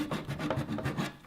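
Dovetail saw cutting along a marked body line on a Ford Bronco build, roughly four even rasping strokes, close and moderately loud with no talking.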